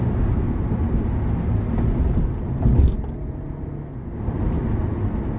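A new Hyundai i30 fitted with a stainless steel 304 exhaust diffuser accelerates at highway speed, around 120 km/h, producing a steady, close, low engine and road rumble that swells briefly midway.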